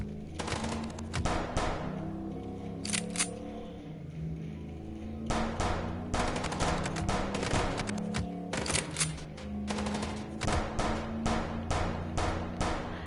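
Rapid bursts of gunfire during a car chase in the Chicken Police video game, sharp rattling volleys in clustered groups over a steady engine drone, fairly close and moderately loud.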